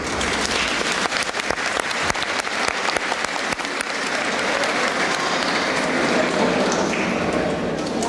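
An audience applauds at a charity stage performance, dense, sustained clapping from a crowd that carries steadily throughout with sharp individual claps popping out near the start.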